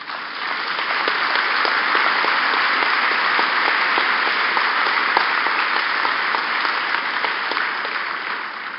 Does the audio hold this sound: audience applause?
yes